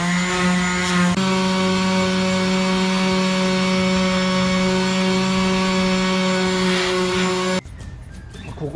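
Power tool grinding down a steel body panel on a Land Cruiser 61, a loud steady whine with strong tones that runs unbroken for about seven seconds, then cuts off abruptly.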